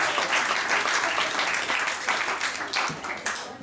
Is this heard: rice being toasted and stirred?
no